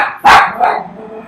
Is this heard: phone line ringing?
no